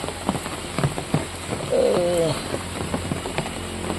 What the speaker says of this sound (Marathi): आणि इकडे पाऊस पडतोय